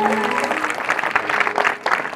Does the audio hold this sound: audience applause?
yes